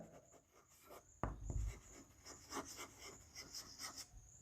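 Chalk scrapes across a board in a steady series of short rubbing strokes, close and fairly clear, with a sharp tap as the writing begins.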